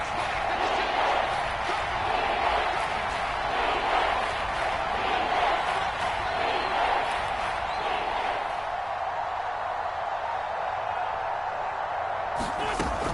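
Roaring Seattle Seahawks home crowd noise during a red-zone third down in a football video game on PS4, a steady dense wall of stadium roar that stays loud throughout and thins slightly near the end.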